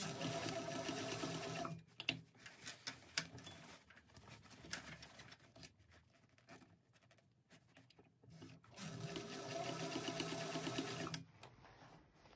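A sewing machine bastes across a bag handle in quiet, rapid bursts of stitching: a run at the start, a pause with scattered clicks and handling, then a second steady run near the end.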